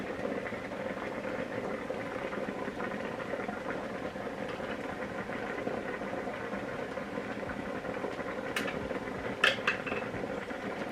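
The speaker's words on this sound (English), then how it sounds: "now that this is boiling and steaming away" Water boils in a steamer, making a steady, close bubbling hiss that stays even throughout, with a few faint clinks near the end and no speech.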